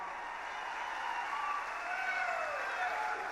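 A large crowd at a political rally in Scranton applauds and cheers, a steady wash of clapping and shouting heard from a distance.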